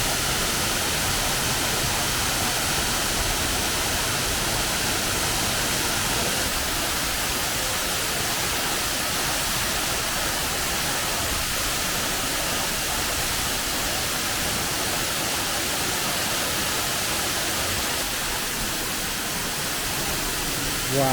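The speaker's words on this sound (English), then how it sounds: "This is the Lower South Falls, 93 feet." Lower South Falls, a 93-foot waterfall at Silver Falls in Oregon, roars as a steady, dense, loud rush of falling water that fills the whole clip without a break or any voices.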